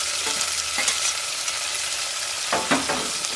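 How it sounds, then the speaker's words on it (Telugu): Tomatoes being stirred into frying onion and ginger-garlic paste in a pan for mushroom pulao, with a loud continuous sizzle and a few scraping strokes of a spoon, close up. "టమాటా వేసుకున్నాక కాస్త ఒకసారి అటు ఇటు కలిపేసుకుందాము."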